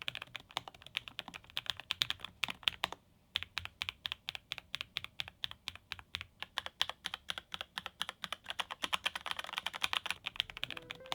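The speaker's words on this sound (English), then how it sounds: "Some of you mechanical keyboard people out there will call this thocky, so this does sound very thocky." Steady typing on a Lofree Flow Lite full-size mechanical keyboard with low-profile switches, a rapid stream of deep, muted key clacks close up with a brief pause near the start, no voices.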